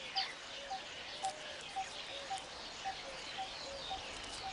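A young weaver bird gives a steady series of short, faint chirps at roughly half-second intervals, evenly spaced and repetitive, over a soft hiss of background noise.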